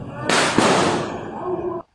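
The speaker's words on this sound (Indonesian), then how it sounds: "Suara petasannya kenceng banget ya." Firecrackers burst loudly and sharply close by during tarawih prayer, a dense crackling blast that runs for under two seconds before cutting off.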